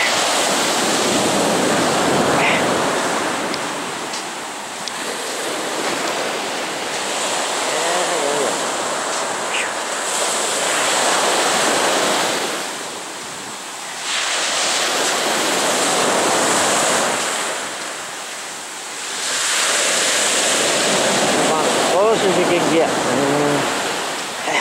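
Waves break on a steep beach, loud close surges of surf rising and falling in several long washes, with wind noise buffeting the microphone.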